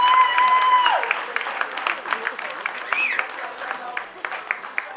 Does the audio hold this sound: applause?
yes